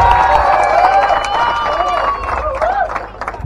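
A crowd cheers and shouts at a Govinda festival event, with a loud, continuous roar of many voices and whistling tones layered over steady babble.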